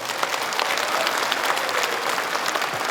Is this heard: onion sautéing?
no